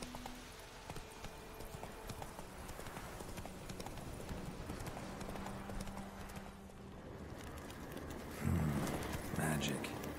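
Roach, the horse in The Witcher 3, gallops with a rapid, steady clip-clop of hooves under game music and ambience, and a louder burst of sound near the end.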